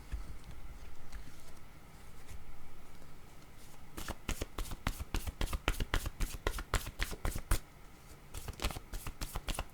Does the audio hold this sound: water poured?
no